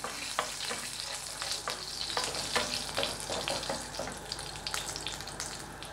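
Fenugreek seeds and a pinch of asafoetida frying in hot oil: a steady crackling sizzle with frequent small pops and the scrape of a spoon stirring, moderately loud throughout, with no talking.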